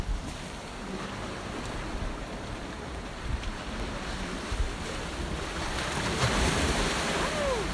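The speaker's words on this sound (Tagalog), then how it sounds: "Kaso lang, malakas yung alon." Rough sea waves break steadily on Church Bay beach in Bermuda, a continuous loud surf wash with wind buffeting the microphone, the roar swelling slightly toward the end.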